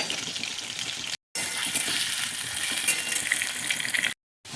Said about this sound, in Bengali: গোটা গরম মশলা জিরে ফোড়ন দিয়ে আলুটা লাল লাল করে একটু ভেজে নেব